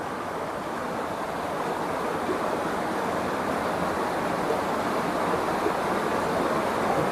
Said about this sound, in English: Autumn waterfalls. Gorgeous waterfalls.